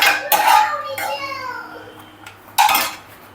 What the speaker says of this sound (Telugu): ఈ వేయించుకున్న డ్రై ఫ్రూట్స్ ఉన్నాయి కదా, వీటిని ఒక ప్లేట్లోకి తీసేసుకుంటున్నాను.